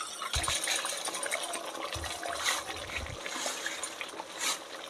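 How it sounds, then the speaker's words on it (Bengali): Water is poured into a pan of yogurt-based katla fish curry, a soft, close trickling and splashing with a few low gurgles, fairly quiet and steady. "তো ভালো একটু পরিমাণ মতন জল দিয়ে নিলে এবার ভালো করে মিশিয়ে নেব।"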